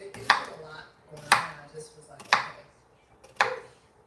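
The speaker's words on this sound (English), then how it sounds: "I'm just chopping and dicing and chopping, whatever you want to call it." Four sharp knife chops strike a cutting board at uneven intervals, close and fairly loud, with faint kitchen clatter between them.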